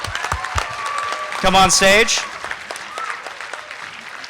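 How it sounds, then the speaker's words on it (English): Audience applause for the winning teams at the PennApps Spring 2014 hackathon final demos, a moderate continuous patter running under a voice calling people to the stage. "Round of applause."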